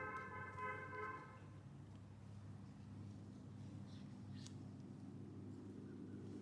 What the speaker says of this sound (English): Why is somebody honking at me?